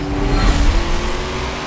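A race car engine revs hard and loud in Forza Motorsport 7, a close, steady roar that surges briefly with no one talking.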